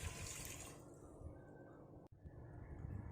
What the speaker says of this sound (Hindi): और पानी डाल देते हैं।